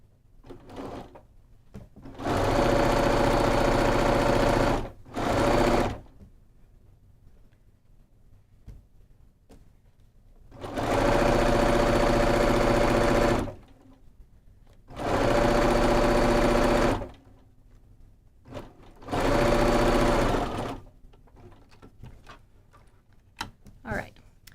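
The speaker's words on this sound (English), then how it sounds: "we're going to sew this again with an accurate 1/4 inch seam" A sewing machine runs in several sustained bursts stitching a quarter-inch seam on quilt pieces, loud and steady, with short pauses and light handling clicks between runs.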